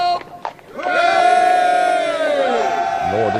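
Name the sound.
regiment cheering in a radio drama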